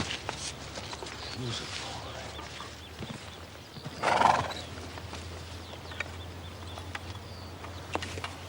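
A lame horse whinnies once, loud and close, midway through, with faint hoof clops and light background noise around it.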